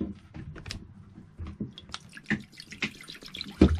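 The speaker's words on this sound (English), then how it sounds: "So let's go ahead and get the water in here." Tap water running and splashing into a pot for an induction cooktop boil test, just over a pint poured in irregular close bursts, ending in a louder splash.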